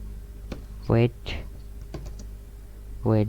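Code being typed on a computer keyboard: a few sparse, crisp keystrokes spread across a few seconds, with short voiced sounds rising between them.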